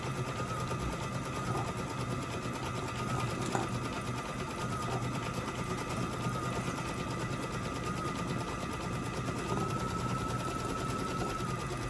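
An embroidery machine stitching an in-the-hoop bun twister design hums in a fast, even, continuous whir of needle strokes, close and loud with a faint tonal whine throughout.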